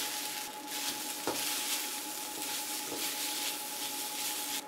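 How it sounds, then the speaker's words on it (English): White rice frying in a Nuwave induction wok, an even loud sizzle with a steady hum and a couple of soft stirring knocks, no voices. "we're gonna add in 3 cups of white rice"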